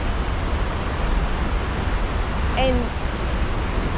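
Rushing water from a flooded stream below Lost Creek Falls and Cave in Tennessee, a loud broad roar that fills the whole stretch while a voice briefly speaks over it.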